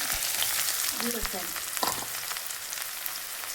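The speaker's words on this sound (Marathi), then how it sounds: "बघा आता मी टाकून घेते कांदा हिरवी मिरची" Chopped onion and green chilies frying in hot oil in a pan, a loud, close, continuous sizzle with brief stirring scrapes.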